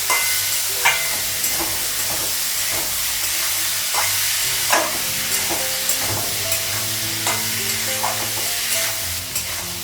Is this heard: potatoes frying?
yes